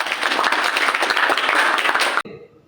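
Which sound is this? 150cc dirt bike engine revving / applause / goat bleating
applause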